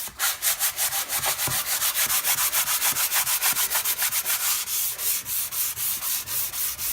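Steady back-and-forth rasping of a sanding block scrubbing a surface, close and continuous with a quick regular rhythm of strokes, no voices.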